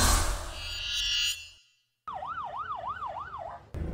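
An ambulance siren in Cagayan de Oro City, Philippines, wails in a steady up-and-down pattern after a burst of noise and a brief silence, fairly clear and nearby.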